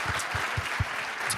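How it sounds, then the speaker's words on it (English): Audience applause after a conference presentation on Playwright MCP, a steady wash of clapping at moderate level with a few louder claps standing out, no voices on top. "A round of applause."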